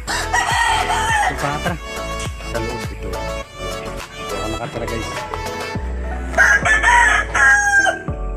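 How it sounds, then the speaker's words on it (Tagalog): A rooster crows loudly over a dense bed of background music, with clucking chicken sounds mixed in throughout. "ito yung alagang manok"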